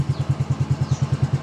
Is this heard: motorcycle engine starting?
yes